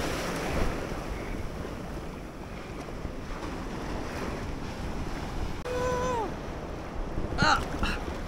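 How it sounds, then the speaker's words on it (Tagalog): Strong ocean waves surge and crash nearby at a La Union beach under gusty wind, with a brief whistle-like tone and a short sharp sound near the end. "Malakas ang alon."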